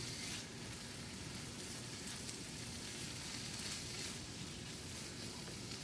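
Bacon, onions and peppers frying in a pan give a steady, even sizzle and crackle, soft and continuous with no talking.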